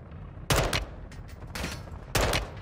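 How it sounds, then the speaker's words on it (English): Shotgun blasts in Modern Warfare II, three loud, sharp booming shots spaced about a second apart, each with a short ragged tail, close and alone without talk. "He's killing me with the shotgun."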